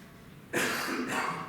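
A single close cough with a throaty burst, followed by a second shorter cough, with no talking.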